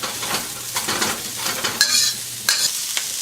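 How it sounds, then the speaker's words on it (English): Celery, onions, and red and green peppers stir-fry on a sizzling hot plate, with a steady crackling sizzle and quick scraping stirs of a utensil close up. "So we're just going to give that a quick stir fry."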